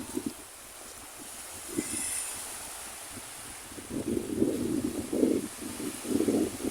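Wind gusts and rumbles against the microphone at the seashore on Camiguin in the afternoon, swelling louder in the second half with broad buffeting bursts.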